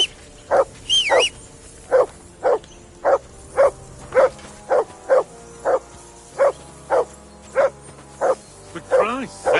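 A dog in Kingdom Come: Deliverance II barks steadily and rhythmically about fifteen times, loud and near, with whistles and a low background hum in between.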